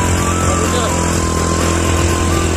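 A motorcycle climbing a steep, rough road toward a hilltop, its engine droning loudly and steadily up close with a strained, buzzing note the whole time.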